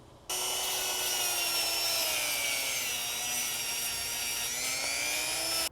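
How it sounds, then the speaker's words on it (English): A Dremel rotary tool fitted with a small nylon brush whirs steadily against a Honda CB550 front brake caliper, giving a high, sustained, slightly wavering motorized whine with a gritty scrubbing texture, close and continuous after a sudden start. "you can also take a Dremel with a little nylon brush and go around it"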